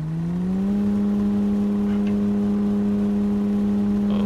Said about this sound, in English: This car feels a little bit slow for some reason, I guess going uphill. And it's pretty loud.